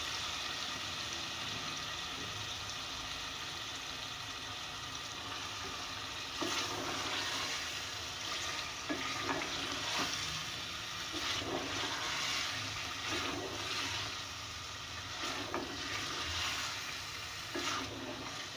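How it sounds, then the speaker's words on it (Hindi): Beef pieces frying in a pot for arvi gosht after tomatoes have been cooked down, giving a steady loud sizzle with bursts of stirring and scraping throughout, and no voices. "चले मैं गोश्त भूनती हूँ अच्छी तरह से"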